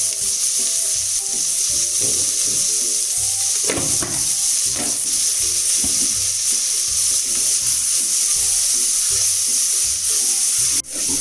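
Chopped onions with salt sizzle and fry steadily in a pan for mutton biryani, a continuous close crackle with a few stirring scrapes and clinks partway through.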